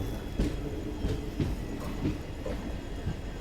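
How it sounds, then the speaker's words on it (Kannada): A train hauled by banker locomotives on the Subrahmanya–Sakleshpur section between Mangaluru and Bengaluru, passing with a steady low rumble of wheels and faint rhythmic clicks over rail joints, with no talk. "ಇವ ಬ್ಯಾಂಕರ್ ಲೋಕೋಮೋಟಿವ್ಸ್ ಅಥವಾ ಬ್ರೇಕರ್ ಲೋಕೋಮೋಟಿವ್ಸ್ ಅಂತ ಹೇಳ್ಬೋದು ನೀವು"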